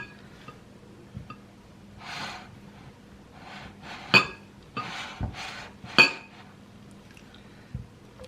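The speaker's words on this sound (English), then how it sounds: "I'm just gonna go ahead and stir this up" Almond flour, baking powder and salt are stirred together in a bowl, with soft scraping strokes and a few sharp clinks of the utensil against the bowl, quiet and close, with faint breathing.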